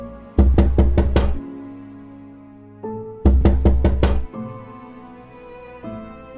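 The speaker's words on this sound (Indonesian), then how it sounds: "Suara ketukan itu masih terdengar." Someone knocks on a house door late at night in two loud, close bursts of five rapid knocks each, separated by a pause, over a low sustained eerie tone.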